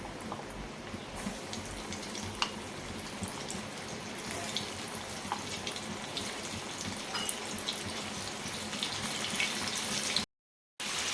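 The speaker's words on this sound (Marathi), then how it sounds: "तेल तापल्यानंतर चणे तळून घेते" Chickpeas fry in hot oil in a kadhai, a dense, steady crackling sizzle heard close up and uninterrupted for about ten seconds before a brief cut, with no talking.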